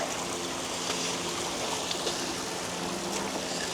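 Small feeder creek flowing beside a bridge near a waterfall, a steady broadband rush of running water that stays even and close throughout with no talk.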